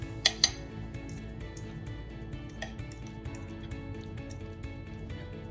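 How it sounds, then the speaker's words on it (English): A fork scrapes and shreds slow-cooked chipotle chicken inside a metal pot, opening with two sharp clinks, then continuing as a steady muffled scraping with scattered light taps and no voices. "you could just shred it in the pot, which is what I'm gonna do"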